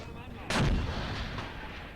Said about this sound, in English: these guys are under heavy artillery or direct gunfire.